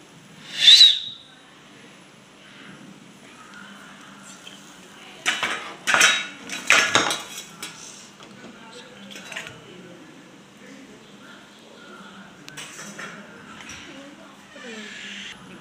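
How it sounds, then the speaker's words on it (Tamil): Sweet poured from a kadai onto a ghee-greased plate: scraping and clinking of a metal pan and utensil on the plate in short clustered bursts, near and moderate, after a brief whistle-like tone, with quiet kitchen background. "இப்போ எடுத்து நெய் தடவின பிளேட்டில் ஊற்றிக்கலாம்."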